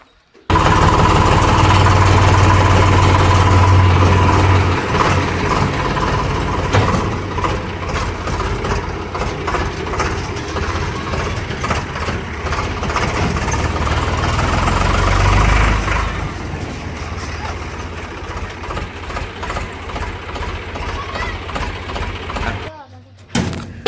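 A farm tractor's diesel engine chugs loudly and steadily while driving toward the fields, a continuous rough rumble with knocking throughout and people talking over it.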